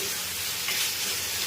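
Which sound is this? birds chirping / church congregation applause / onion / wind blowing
onion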